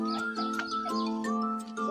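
Small birds chirp and tweet in quick bursts close by at a spot set out with water and food, bright repeated calls stacked over a steady tonal hum.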